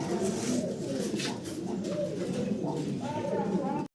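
Young fancy pigeons coo in low, continuous throaty murmurs nearby, layered under someone talking throughout.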